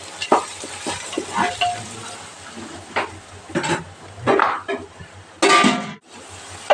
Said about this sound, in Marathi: 1-2 मिनिटासाठी त्याला आपण सॉटे करून घ्यायचं आहे.